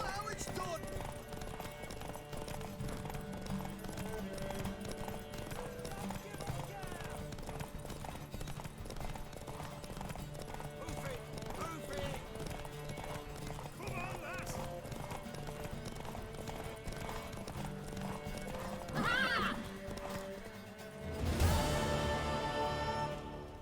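In The Witcher 3, a horse's hooves clip-clop steadily while it gallops, and a sharp neigh breaks out near the end, all under game music and character dialogue.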